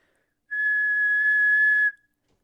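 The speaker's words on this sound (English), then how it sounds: "So what I want you to try here is just go ahead and whistle." A person whistles one steady, clear note that sustains for about a second and a half, loud and close, with no talking.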